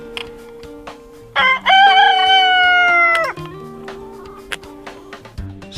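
A rooster in a sheep pen lets out one loud, close cock-a-doodle-doo lasting about two seconds, with quieter clucks, knocks and farmyard sounds before and after.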